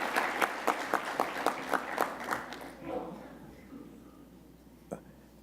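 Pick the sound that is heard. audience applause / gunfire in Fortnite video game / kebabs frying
audience applause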